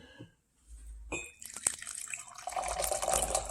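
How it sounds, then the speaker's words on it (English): Black tea poured into a mug, a steady liquid trickle and splash building after a few faint clinks, continuing close and fairly quiet with no talking. "And I'm going to just pour the tea."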